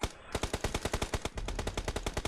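Rapid automatic gunfire from an AMR sniper rifle in the PUBG Mobile battle royale game, a steady stream of loud, sharp shots about ten per second, continuing without pause throughout.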